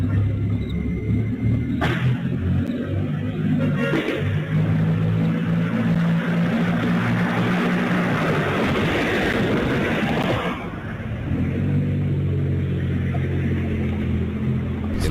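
A Mercedes car engine rumbles and roars past on city streets at night, loud and close, with a brief lull near the end before the rumble returns.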